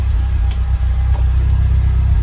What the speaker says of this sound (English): Car's running. It's revving nicely.